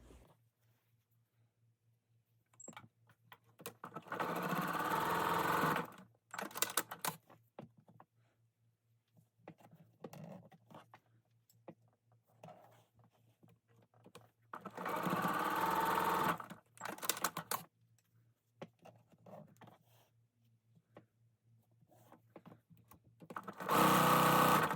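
A sewing machine stitches half-square-triangle quilt units in three quick bursts separated by quiet pauses, each run a steady mechanical whir, close and loud, with no talk.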